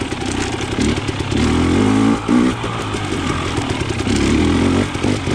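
KTM 300 XC TPI two-stroke dirt bike with a TSP low-compression head insert, ridden in third gear up a climb. The engine drones loud and close throughout, with a brief dip in the middle before it picks back up.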